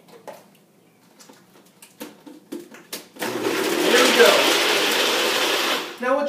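A blender mixes a kale health shake with a steady, loud whirring roar that starts abruptly after a few seconds of a person talking and holds to the end.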